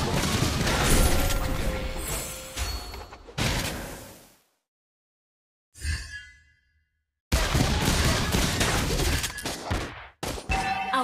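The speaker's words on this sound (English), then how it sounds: "Our turret has been destroyed." A turret being destroyed in the Mobile Legends video game, a loud crashing collapse amid busy battle effects, then sudden silence broken by a brief burst before the noisy fight sounds resume.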